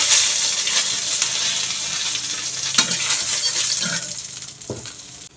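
Dry red chillies and bay leaves sizzle in hot oil in a kadai while cooking moong dal with fish head, a steady crackling hiss with a few sharper pops and stirring clinks, close and alone with no talk.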